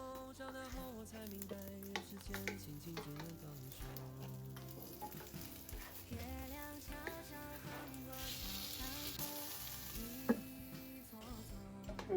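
A flatbread fries in a covered pan, a little hot water poured down the middle before the lid goes on. It gives a steady, soft sizzle with faint crackles, under quiet background music, and no voices.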